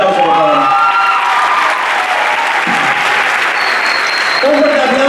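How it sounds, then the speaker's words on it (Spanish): A live audience at a choreographic dance show applauds loudly and steadily for a dancer, a dense wash of clapping with some cheering, while a voice speaks briefly at the start and again near the end. "Un fuerte aplauso, por favor."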